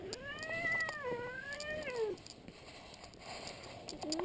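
A cat meows loudly while being held, giving a long wavering, complaining yowl up close, then quieter fidgeting and a faint start of another meow.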